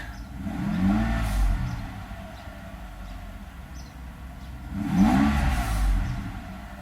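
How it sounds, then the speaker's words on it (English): A Mercedes S600 engine with freshly rebuilt throttle bodies revs up twice from idle, each rise a clear climbing whine and roar that settles back between bursts, heard close and alone. "So let me just accelerate."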